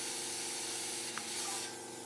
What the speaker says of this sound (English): Oh yeah, spray solder everywhere doing that.